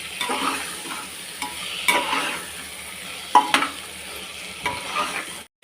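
Green peas tossed into an onion-tomato masala for matar paneer masala rice, sizzling in the pan. A steady frying hiss carries throughout, with repeated soft scraping stirs and occasional utensil clinks close by.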